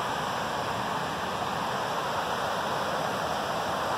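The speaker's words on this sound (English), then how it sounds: "you can hear Van Trump Creek down below" Van Trump Creek rushes in the valley below a trail on Mt. Rainier during spring snowmelt, a faint, steady roar of distant flowing water with no talking.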